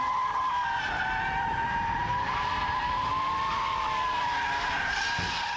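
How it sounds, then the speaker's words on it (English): A car's tires squeal in a long, sustained skid during a power slide, loud and continuous with the engine roaring underneath. "So to progress that, we need the power slide."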